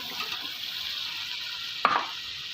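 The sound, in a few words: masala and potatoes frying in a pan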